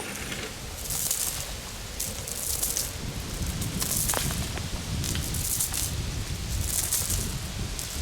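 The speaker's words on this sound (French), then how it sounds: "Il y a un coup de vent, il y a tous les glands qui tombent." Wind gusting through oak trees with leaves rustling and acorns pattering down irregularly, a scattered rain-like tapping over steady outdoor noise.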